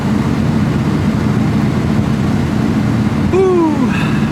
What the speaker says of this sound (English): I still can't believe I'm driving my R34 right now.